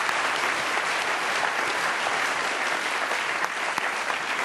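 Dense, steady applause from a large audience at a national customs best-practices award ceremony, loud and continuous for a few seconds with no voices over it.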